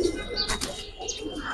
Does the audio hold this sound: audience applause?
no